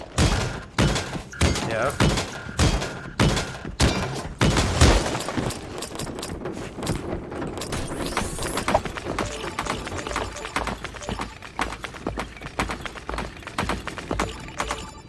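Bursts of rapid gunfire ring out in the Creative Destruction battle royale game, starting with a series of loud close shots and then giving way to quicker, fainter distant volleys, with a player speaking briefly.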